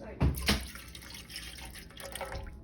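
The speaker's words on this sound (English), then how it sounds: "Go ahead, Liam, pour in the water" Water poured from a cup into a mixing bowl for homemade bread dough, heard as a couple of quick splashing pours near the start, then faint trickling and dripping in a quiet kitchen.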